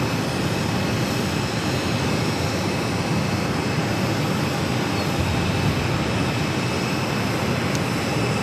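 An Alaska Airlines plane taxis at Phoenix airport, its jet engines giving a loud, steady roar and broadband rush that holds evenly throughout with no talk.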